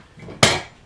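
A single sharp metallic strike of a hammer on a pin punch set against a Citroën 2CV engine casing, close and loud after brief quiet, ringing briefly before fading.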